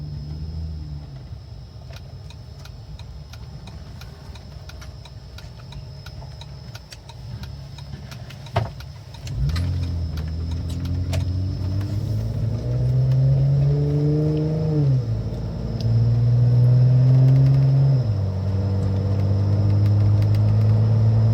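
A Jeep Wrangler with its check engine light on idles with a low steady rumble, then after a sharp click the engine revs up and down several times in rising, falling swells, close and fairly loud.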